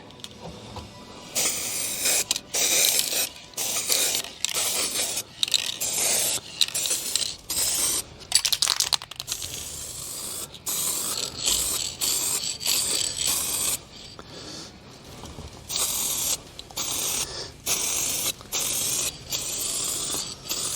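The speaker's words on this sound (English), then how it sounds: "just give it a good old spray on top" Repeated bursts of sharp, hissing aerosol spray paint on a Commodore Amiga 1200 keyboard, close and loud, broken up by short pauses and the occasional rattle of the can.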